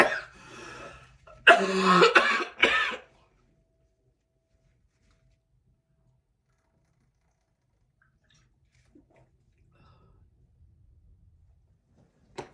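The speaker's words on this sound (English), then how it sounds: "Coughing attack." A short burst of harsh, repeated coughing close to the mic, a few seconds long, followed by near silence with faint rustling.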